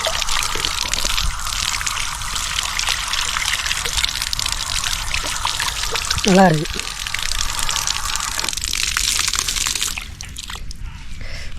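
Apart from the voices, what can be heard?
rainwater pouring from a pipe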